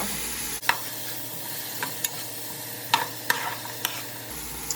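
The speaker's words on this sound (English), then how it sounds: "So next, I'm going to stir in my pumpkin." Pumpkin being stirred into a pot of frying callaloo ingredients, a low steady sizzle with scattered sharp clicks and scrapes of a spoon against the pot, close and unaccompanied by talk.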